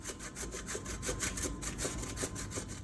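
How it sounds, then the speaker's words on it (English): A fresh zucchini rubbed against a kitchen grater makes a close, rhythmic rasping scrape, each stroke a quick gritty swish repeated steadily with no voices. "with a grater, grate the zucchini"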